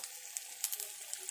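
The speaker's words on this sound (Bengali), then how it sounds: "মাছটা ভাজা হয়ে গেছে, মাঝে মাছ ভাজা, এখন আমি ফোড়নটা দিলাম" Whole spices tempering in hot oil for a fish curry: a brief, fairly quiet sizzle of steady hiss broken by a few sharp pops and crackles, with no voices.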